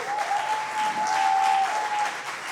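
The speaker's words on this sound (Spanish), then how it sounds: "Demos un aplauso a Elías." A church congregation applauds for Elías, a sustained, fairly loud round of clapping with a faint tone running underneath.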